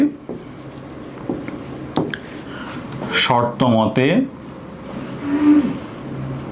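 A pen scratching out a partnership maths equation on paper, with short scraping strokes and taps, broken by brief bits of speech in the middle and near the end.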